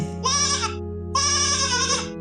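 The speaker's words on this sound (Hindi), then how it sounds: "संतोष और उसकी पत्नी मिलकर उस बकरी के बच्चे को ध्यान रखते हैं" A baby goat in a cartoon gives two drawn-out bleats, close and clear, with a short gap between them over a quiet musical backing.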